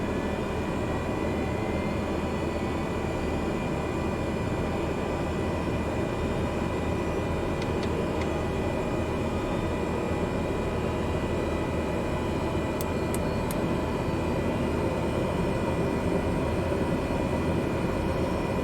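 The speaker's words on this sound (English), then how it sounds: "Looks like we have a good engine start." Cessna Caravan turboprop engine starting in Microsoft Flight Simulator 2020, a steady loud broadband turbine roar with a constant whine running throughout, a few faint high clicks over it, no voices.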